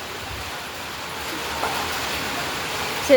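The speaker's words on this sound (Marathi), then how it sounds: "पाऊस खूप मोठा चालू झाला मित्रांनो" A steady broadband hiss of heavy rain pours continuously, dense and even, with no voices.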